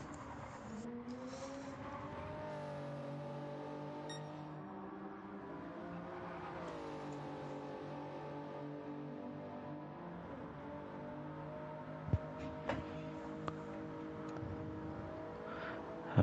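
Toyota Supra race car in Gran Turismo lapping Spa-Francorchamps, a steady sustained engine drone with shifting harmonic pitch as it accelerates and lifts, plus a few sharp clicks late on, under faint background talk.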